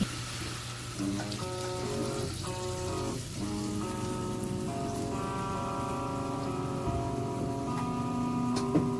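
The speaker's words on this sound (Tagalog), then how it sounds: "lagyan natin ito ng tubig" Water poured into a pan of simmering adobong sitaw (string beans braised in soy sauce) makes a steady, close rain-like hiss and patter that runs the whole time, with tonal background music beneath.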